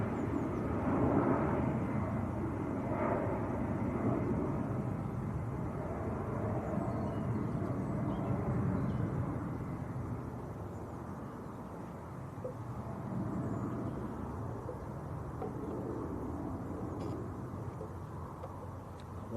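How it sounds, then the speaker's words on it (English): EasyJet airliner departing Manchester Airport for Milan, a distant rumbling jet roar that holds fairly steady and then eases to a quieter wash as it recedes. "That was EasyJet to Milan that just departed."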